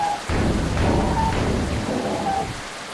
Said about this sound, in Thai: ฝนตกก็กำลัง ฝนตกก็ตกมาเลย